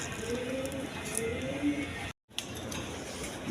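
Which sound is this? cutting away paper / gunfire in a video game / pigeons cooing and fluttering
pigeons cooing and fluttering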